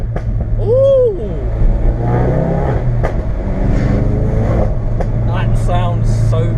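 A Ford Focus RS engine revs with the windows down, a loud close rising and falling drone that swells in a brief surge, with a voice talking over it.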